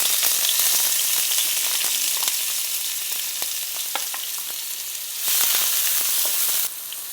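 Finely chopped onions sizzling and crackling in hot oil, a loud steady fry with scattered pops and occasional stirring, no talking.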